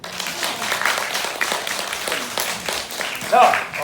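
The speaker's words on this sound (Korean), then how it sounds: "박수 한번 주시고." A theater audience claps after a seat-number prize draw at a live stage show, moderate applause that swells and fades, with a voice over it near the end.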